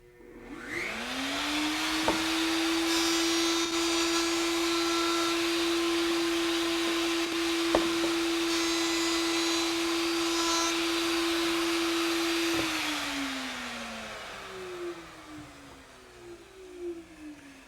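A router cutting both sides of a wood piece gives a loud, steady high-pitched whine that spins up, holds for about ten seconds, then winds down as the motor coasts to a stop.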